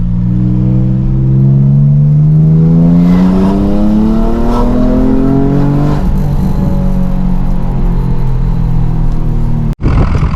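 Nissan 350Z with a naturally aspirated engine, reinforced clutch fork and stage 2 clutch, revving loudly up through the gears in a rising close roar, then holding a steady drone before a sudden cut.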